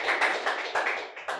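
An open-mic audience claps along in steady rhythm at a Hindi song performance, about six sharp, even beats close to the microphone over a short stretch with no voices.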